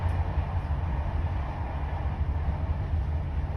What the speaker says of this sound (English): this is my sunset train ride from Espinho to Lisboa